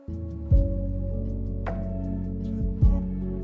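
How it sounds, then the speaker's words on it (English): Short, choppy string chords from Albion Neo cassette tape strings play in stabs with sustained tones between, a warm, slightly muffled sampled sound, two accented hits near the start and end. "So the string sound is the cassette tape strings from Albion Neo."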